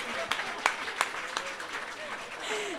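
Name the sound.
audience applause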